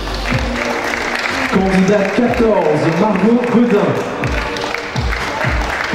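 An audience applauding the Miss Oise 2020 candidates at a pageant, sustained clapping in a large hall with an amplified announcer talking over it.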